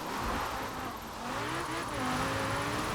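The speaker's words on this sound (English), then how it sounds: "I'm just gonna drive around a second gear" A drift-build car in Forza Horizon 4 driven in second gear, its engine droning steadily with a rising and falling whine as revs shift, sustained and fairly loud with faint tire noise beneath.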